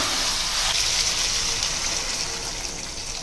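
About a quarter litre of water is poured into a pot of mutton, raw papaya and masala gravy, giving a steady, close, rushing splash that continues without a break and without any talking.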